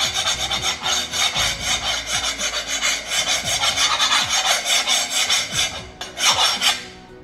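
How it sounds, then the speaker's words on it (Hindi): A metal knife is scraped back and forth across a scratch-proof Orientbell tile in rapid, rhythmic gritty strokes, loud and close, continuing for several seconds with no talking. "आपकी नाइफ या मतलब जो भी किसी भी टूल से आप ट्राई कर सकते हो कि इस पर कोई स्क्रैचेस नहीं आएंगे"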